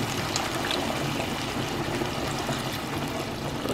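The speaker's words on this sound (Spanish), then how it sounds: "Le vamos a echar aquí de esta lata de leche de coco, le vamos a echar la mitad" Coconut milk poured from a can into a cooking pot, a steady liquid splashing and trickling noise that runs without pause for a few seconds at moderate level, with no talking.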